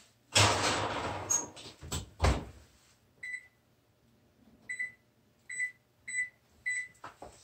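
Oven door being opened and shut as a tray of mini apple crisps goes in to bake, heard as a couple of loud close knocks and clunks, followed by a series of short, evenly spaced electronic beeps from the oven controls.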